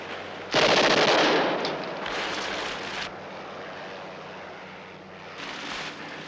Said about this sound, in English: You cannot win against an automatic weapon!